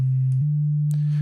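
A steady, pure self-oscillating synth filter feedback tone hums continuously, dropping slightly in pitch partway through, with faint clicks and a brief noisy burst over it.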